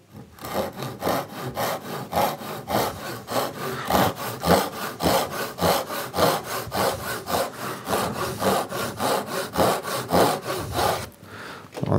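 Hand saw cutting through wood for a boot rack, fast rhythmic rasping strokes in a steady back-and-forth pattern, close and loud, continuing for about eleven seconds before stopping, with no talk.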